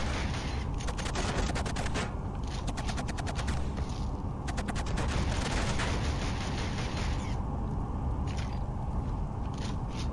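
Machine gun fire in the KillZone video game: dense, continuous rapid bursts with clattering shots over a loud, rough battle din that runs throughout. No one speaks.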